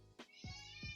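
A pet cat meows three times in quick succession, close and soft, with a faint high whine lingering in the background.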